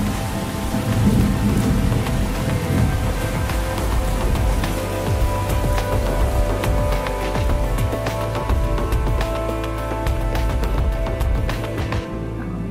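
Steady, loud monsoon downpour drumming on the ground in a garden, with deep rolls of thunder rumbling beneath it throughout, no voices.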